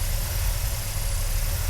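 A car engine idles low at about 530 rpm with timing set to 9 degrees, a steady, close, unbroken rumble with no talk.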